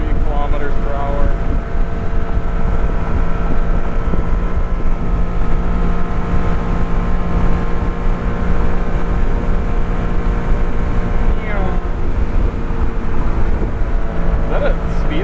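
A 1991 Honda Beat cruising at 7,000 RPM and about 130 km/h, its small engine droning steadily with a high-pitched whine over constant road and wind roar from inside the car, with a voice speaking over it.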